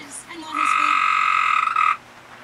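A tree frog gives a single loud, buzzing croak lasting about a second and a half, close by, against a quiet background during hurricane winds outside a shop.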